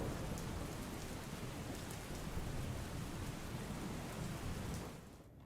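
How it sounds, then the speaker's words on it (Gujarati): Light, steady rain falls in Umargam, Valsad, a soft continuous patter heard alone that fades out at the very end. "ઉમરગામમાં ફરી એકવાર ધીમી ધારે વરસાદ શરૂ થયો છે"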